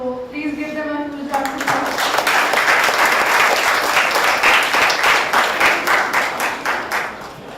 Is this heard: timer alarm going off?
no